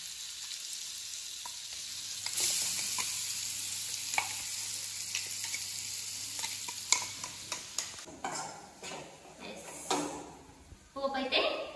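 Curry leaf tempering sizzles softly in hot oil for a chutney, a faint steady hiss punctuated by clinks and scrapes of a spoon stirring in the pan, with a loud burst of sizzling and clatter near the end.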